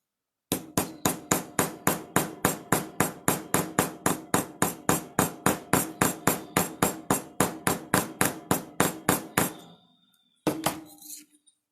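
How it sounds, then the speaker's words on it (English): A hammer strikes a metal disc punch again and again while star earrings are made, about thirty sharp, evenly spaced ringing blows in a quick steady rhythm, close and loud, followed by a brief pause and a couple of final taps. "You don't want to go crazy hammering it, but you want to make sure that you get it set in there."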